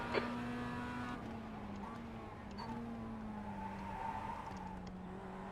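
In the iRacing sim, a Mazda MX-5 race car engine holds a steady, droning buzz with pitch shifts through gear changes and corners. The drone continues without a break for several seconds.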